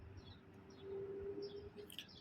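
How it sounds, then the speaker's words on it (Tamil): House sparrows chirp in brief, faint, scattered tweets over a low outdoor background hum, with no voices present. "இங்கே வந்து பார்த்திங்கன்னா சிட்டுக்குருவி இது எல்லாமே வந்து அது வாழ்ந்துக்கிட்டு தான் இருக்குது"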